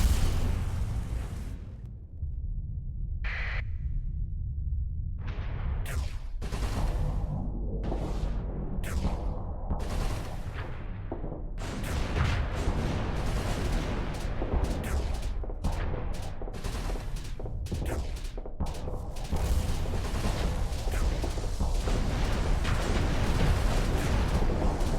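Torpedoes detonate in a Starsector space-combat simulation: a dense run of booming blasts and crackling bursts, some sharp and isolated, others piling into a continuous, loud roar.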